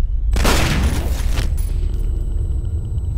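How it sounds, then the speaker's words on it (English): A loud grenade explosion in the video game F.E.A.R., one sharp close blast followed by a rolling low rumble and debris that fades out over a couple of seconds. "Stop chucking grenades."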